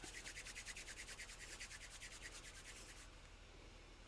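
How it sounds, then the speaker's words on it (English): An end of chunky single-ply yarn is rubbed quickly back and forth between the palms to felt it. The close, soft, rhythmic swishing strokes fade after about three seconds. "Then you rub it in between your hands to felt the end so it doesn't fall apart."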